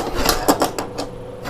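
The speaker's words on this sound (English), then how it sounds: "Cleaned it up with the deburring tool there." A hand deburring tool scrapes around the edge of a freshly drilled hole in metal, giving a series of short, quick rasping strokes close up.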